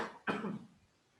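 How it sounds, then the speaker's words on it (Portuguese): A single sharp cough bursts out near the mic, followed by a short fading tail, with quiet room tone around it and no talking. "Foi mal aí, galera, pela tosse."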